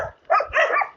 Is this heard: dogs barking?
yes